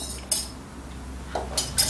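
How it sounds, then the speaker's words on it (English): Egg yolks being whisked with cream in a bowl for a cheese sauce, a few quick metallic taps and clinks of the whisk against the bowl, close and brief, with quiet gaps between. "here with my whisk just to incorporate them"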